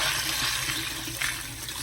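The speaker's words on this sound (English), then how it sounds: "after we give the beans a good rinse" Dry beans rinsed under running kitchen tap water before going into an Instant Pot, a continuous close rushing splash of water filling and pouring, steady throughout.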